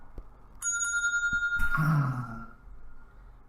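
A small bell dings once with a clear ringing tone that sustains for about a second before a soft thump and faint room noise; no talking.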